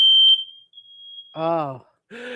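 A single high-pitched smoke alarm beep rings out and lingers, followed by a person speaking briefly; quiet otherwise.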